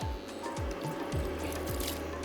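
Water poured into a cooking pot over spiced millet (jhangora) biryani on a stove, a steady, continuous splashing hiss with soft low thumps, close and moderately loud, with no talking.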